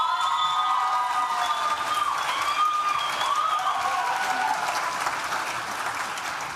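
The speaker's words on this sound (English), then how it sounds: "Please join me in giving a round of applause to Deminda, Claire Taylor," Graduation ceremony audience applauding in a large hall, a sustained wash of many hands clapping that holds steady and tapers slightly at the end, with a faint whistle-like tone running through it.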